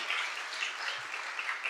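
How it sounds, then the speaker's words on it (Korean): Steady, even applause from a church congregation at an anniversary ordination service, a continuous soft wash of clapping held at a moderate level for the whole stretch with no voices over it. "일단 박수 한번 쳐 주시기 바랍니다"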